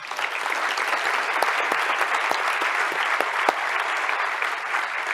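Audience at an impact summit's official opening breaks into sustained applause, dense, even clapping from a large room with a few sharper individual claps standing out, no voices over it.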